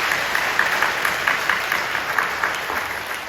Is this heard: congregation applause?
yes